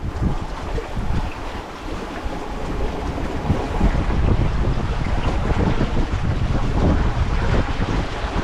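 A sailboat runs under autopilot through light shifting wind, with steady roaring wind buffeting the microphone and the wash of water and waves along the hull, continuous and fairly loud with no talking.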